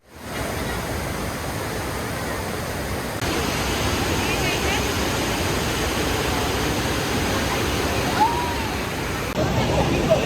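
Strong, full flow of water pours down a waterfall in Kerala, a steady loud rushing roar that fills the whole scene and grows slightly heavier partway through, with no break.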